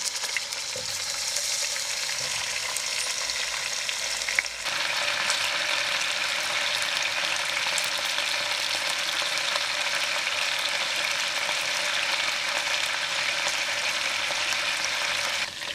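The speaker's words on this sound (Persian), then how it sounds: "مرغامون رو میذارم کاملا سرخ بشه" Chicken pieces frying in a pot for a Gilan-style pomegranate stew, a steady broadband sizzle that holds evenly throughout with a brief shift partway as the food is stirred; no talk.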